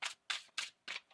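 Tarot cards being shuffled in four quick riffling bursts about a third of a second apart, crisp and close, with no voices.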